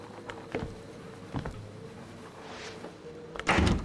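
A door in the Outlast 2 horror game knocks and thuds several times at irregular intervals, ending in a louder close bang, over a quiet hum.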